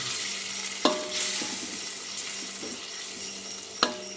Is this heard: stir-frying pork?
yes